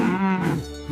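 A single cow moos once, close and loud, a drawn-out low call that rises and then falls across about a second in a children's farm-animal cartoon.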